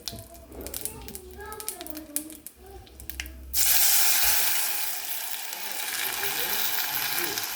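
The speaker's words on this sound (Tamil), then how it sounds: "இப்போ வந்து அரைச்சி வடிகட்டின வெத்தலையை ஊற்றிக்கலாம்" Strained ground betel leaf juice poured into a hot tempering of curry leaves and dried red chilli for vethalai rasam, a sudden loud sizzling hiss that begins midway and continues steadily after a stretch of speech.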